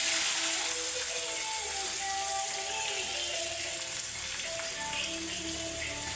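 Onion frying in oil with a bay leaf and two cloves, a steady close sizzle with faint crackles running throughout, no voices.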